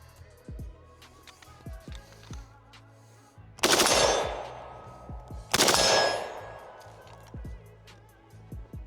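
A Norinco SKS rifle fitted with a Texas Triggers forced-reset trigger and a 10-round box magazine fires two loud, sharp outdoor shots about two seconds apart, each with a ringing tail, after a few small handling clicks.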